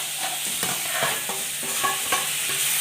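Meat curry with chilli paste sautéing in a pan, a loud continuous sizzle broken by rhythmic scraping strokes of a spoon stirring about twice a second, close and without talk.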